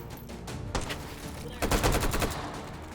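Rapid gunfire in a VR shooter game sounds as dense bursts of fast cracks, the loudest volley coming near the end, over a steady background hum. There is some faint talking.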